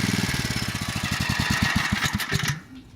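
A very old gas generator converted to run on propane is revved from idle up to full speed, its engine firing in a steady thumping rhythm that quickens and smooths out before cutting off at the end.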